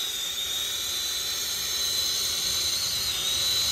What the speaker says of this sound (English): Daniel's using the brazing rod to seal in that crimped line right there.